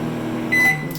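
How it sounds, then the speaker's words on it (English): A microwave oven hums steadily up close, then gives a single short, bright electronic beep near the end. "I don't like that final beep that the microwave does"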